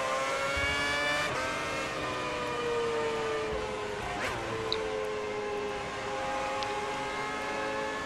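Race car engine from F1 2010 game racing on Bahrain circuit, a steady high-pitched whine with gliding pitch shifts as the car cruises, other cars passing faintly, no speech.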